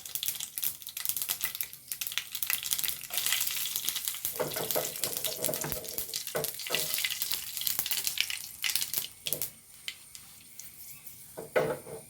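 Dried red chillies sizzle and crackle steadily in hot oil for tempering an okra masala curry, a continuous close frying hiss with scattered pops and no talking.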